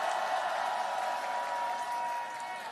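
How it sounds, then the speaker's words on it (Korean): A crowd at a campaign rally in Suncheon applauds a lawmaker with steady, dense clapping that holds for a few seconds and fades slightly at the end. "우리 의원님께 큰 박수"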